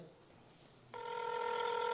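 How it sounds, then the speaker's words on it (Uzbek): A steady electronic ringback tone starts suddenly after a quiet moment and holds on, a single continuous tone heard through a phone line. "Xo'p, gudok ketyapti azizlar"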